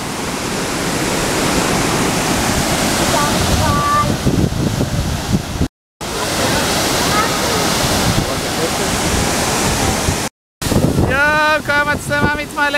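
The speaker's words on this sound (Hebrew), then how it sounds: "מפל התחנה בנחל עיון" Mill waterfall (Tahana Falls) in Nahal Iyon roaring close by in a steady, dense rush of falling water, cut twice by brief dropouts, with wind buffeting the microphone.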